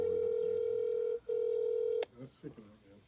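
A telephone call is placed: a steady ringback tone plays for about two seconds, with a short break partway through, then cuts off as muffled sounds and a voice follow, suggesting the call connects.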